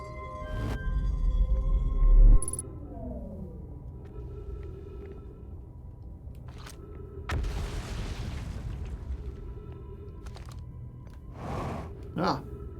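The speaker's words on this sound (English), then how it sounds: "Activate the gravity cannon." A gravity cannon firing in a video game: deep rumbling booms with a sharp burst near the start, a descending tonal sweep, then another broad whooshing blast and later pops over a low game drone.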